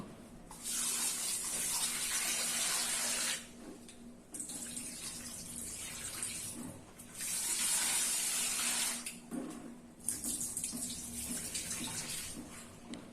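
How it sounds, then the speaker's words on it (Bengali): Raw prawns for a prawn and potato curry washed under a running kitchen tap: close, loud water splashing in four long bursts separated by short pauses, with no talking. "প্রথমে আমি মাছটা ভালো করে ধুয়ে নেব।"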